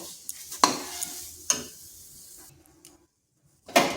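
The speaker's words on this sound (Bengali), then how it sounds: "এরপর এটা আর একটু ভাজা ভাজা করে নেব" Pointed gourd fries in oil in a pan while a spatula stirs it, with a few sharp scraping strokes over a soft, near sizzle, a brief silent gap, then one more scrape at the end.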